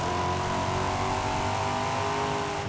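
Race car engine in Forza Horizon 5 on PS5, holding a steady loud high-revving drone with layered harmonic whine throughout, no breaks or gear changes, with no talking.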